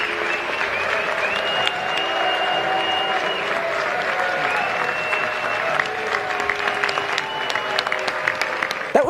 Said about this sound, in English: That was Trump getting booed as he wrapped up his set at the Al Smith dinner